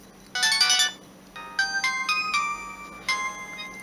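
A Samsung GT-E1080i mobile phone plays a bright melodic ringtone, loud and close, in three short repeated phrases of electronic tones separated by brief pauses.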